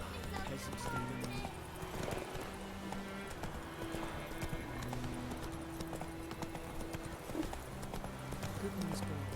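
A horse's hooves clip-clop steadily in a fantasy role-playing game, a brisk, continuous beat with an occasional snort, while people talk over it.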